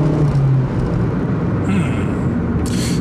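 Honda Fit RS (second-generation Fit) accelerating from first gear, a steady broadband engine and road drone inside the cabin with a brief murmur of voice over it.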